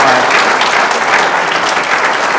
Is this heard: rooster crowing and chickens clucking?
no